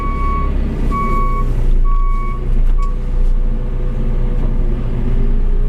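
Steady reversing beeps from a JCB 532-70 telehandler repeat at an even pace over the loud, low rumble of its engine.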